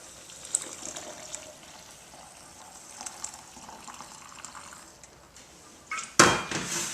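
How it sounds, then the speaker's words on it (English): Cold water poured into a quart jar holding coarse coffee grounds, heard as faint handling clinks followed by a short, louder splashing rush of pouring near the end. "And fill up with cold water."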